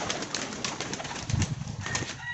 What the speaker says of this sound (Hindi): बाकी दोस्तों कबूतर शबूतर सब खुले हुए हैं, आज खोल दिए मैंने